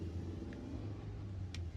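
Mikrotrans JAK 17 minibus rolling slowly along a Jakarta street on the Pulogadung–Senen route, a steady low engine rumble close by with light road noise and no talk.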